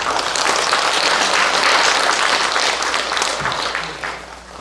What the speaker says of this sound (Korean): 박수로 좀 부탁드립니다.